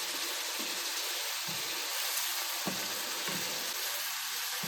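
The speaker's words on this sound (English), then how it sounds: "I'm going to cook my eggs first. I want it to solidify a little bit," Eggs sizzle steadily in a hot pan for shrimp fried rice, a constant close frying hiss with soft scraping strokes as they are stirred and scrambled.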